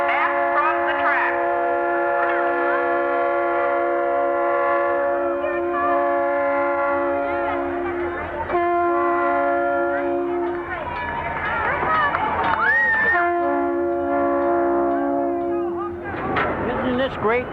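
Circus train pulling into a depot, its horn sounding in long sustained chords, loud and near, with brief gaps between blasts and crowd voices beneath.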